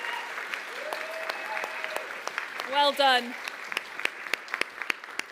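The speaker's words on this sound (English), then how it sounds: "Big round of applause." An audience at a startup showcase breaks into applause, a steady patter of clapping hands lasting several seconds. A speaker's voice briefly rises above the clapping.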